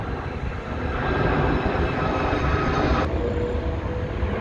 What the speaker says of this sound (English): I have to pause because of a plane. Really loud.